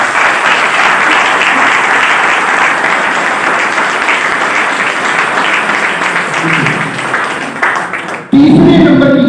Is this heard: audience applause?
yes